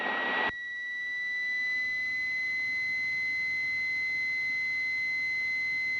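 Aircraft engine at full takeoff power, a steady whining tone with strong high pitched harmonics held evenly after a brief burst of broadband noise at the start, with no talk.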